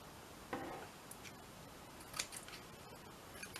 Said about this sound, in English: snip this along.